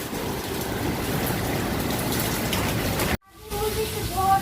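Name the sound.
rain falling, water coming inside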